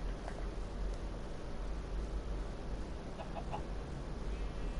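Chicken clucking in the Minecraft video game, faint scattered clucks over a steady background hiss, no talking.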